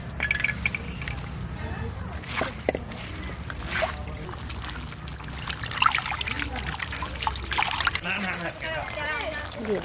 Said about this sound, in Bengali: ধুয়ে নি আলু